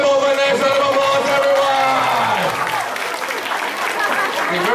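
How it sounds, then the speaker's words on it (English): A zoo snake show audience at Lok Kawi Zoo claps in a steady, full round of applause that lasts throughout, with a voice talking over it. "let's give them over a nice round of applause"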